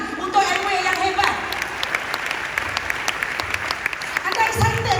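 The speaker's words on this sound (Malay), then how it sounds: "Satu tepukan untuk Amway yang hebat." An audience at an Amway recognition event applauds with steady clapping, moderately loud, with a voice speaking over it.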